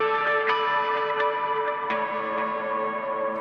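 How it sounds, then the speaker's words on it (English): A sustained, saturated electric guitar lead line with echoing repeats trailing behind it, smooth and continuous at moderate volume. "Then here we have this guitar lead."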